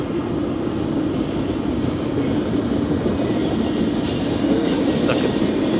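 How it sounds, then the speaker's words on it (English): A passing train rumbles steadily and loudly nearby, a continuous broad roar with faint wheel clatter throughout, no gaps. "Oh, the train's not that long at all."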